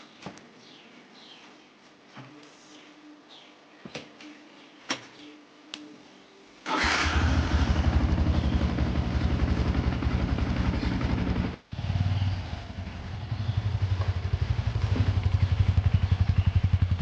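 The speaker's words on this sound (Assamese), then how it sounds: "প্ৰথমে কৰিলোঁ বাইকখনৰ কুল ষ্টাৰ্ট আৰু গৈ থাকোঁ" A motorcycle cold-started outdoors: a few quiet clicks and handling noises, then the engine fires and idles loudly and steadily, dips briefly, and resumes a close, throbbing run.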